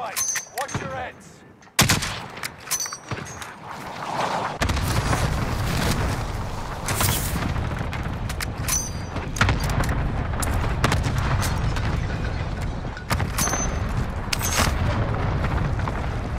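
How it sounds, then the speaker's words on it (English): Cluster strike explosions and gunfire in Call of Duty Warzone on Rebirth Island: a sudden heavy blast opens a sustained barrage of booming impacts and rapid shots, loud and continuous, with brief talk early on. "Cluster strike. Watch your heads."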